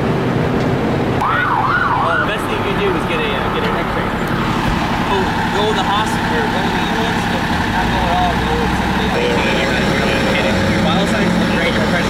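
An ambulance siren wails after a road accident, a loud rising and falling tone heard near and then fading under heavy traffic and street noise, with people talking.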